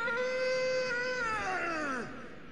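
King Allant, a boss in the video game Demon's Souls, lets out an agonized scream: one loud, sustained, harmonic cry that bends sharply downward in pitch at the end and then cuts off.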